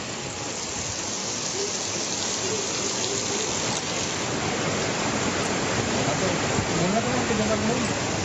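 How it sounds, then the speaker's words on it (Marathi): Heavy monsoon rain pours down steadily in Chandrapur, a dense, continuous hiss of close, loud rainfall on surfaces that holds even from start to end. "चंद्रपूरमध्ये देखील मुसळधार पाऊस बरसला"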